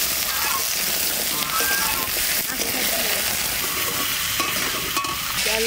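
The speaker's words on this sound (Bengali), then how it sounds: "ওই তেলের মধ্যে আলুগুলো দিয়ে দিচ্ছি।" Potato pieces fry in hot oil in a wok, a loud continuous sizzle and crackle with stirring and splattering throughout.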